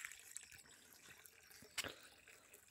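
A small spring built in 1989 trickles quietly outdoors, its thin flow of clear water giving soft, faint gurgles and drips with a couple of brighter splashes partway through.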